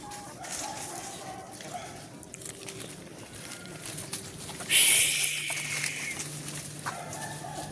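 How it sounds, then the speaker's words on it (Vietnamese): A flock of more than thirty large chickens roams a garden, giving scattered clucks and bird calls at moderate distance over steady outdoor background noise. "Còn gà to ngoài vườn hơn 30 con."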